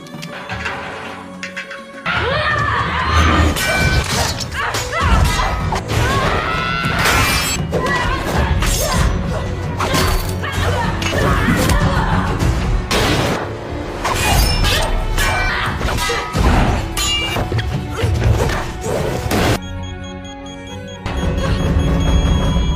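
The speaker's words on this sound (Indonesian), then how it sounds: "Ledakan itu membuat Umbra terluka parah" Loud, dense crashes and shattering bursts with deep booming rumble, sustained almost without pause for about twenty seconds, like a cinematic bomb blast and its chaotic aftermath, from a bomb explosion in a film.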